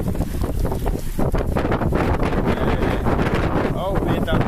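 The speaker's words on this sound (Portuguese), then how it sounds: "tem um vento tão forte aqui" Strong wind and heavy rain in Maceió, a constant loud gusty rush battering the microphone, with voices talking faintly under it.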